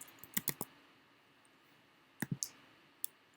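Short bursts of keystrokes on a computer keyboard as a name is typed, a quick cluster of clicks, a pause, another cluster and one final tap, close and quiet.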